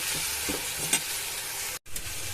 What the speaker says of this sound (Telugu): అల్లం, వెల్లుల్లిపాయ, టమాటా కలిపి చేసిన పేస్ట్ వేసాయని ఇది కూడా ఒకసారి బాగా కలుపుకోవాలి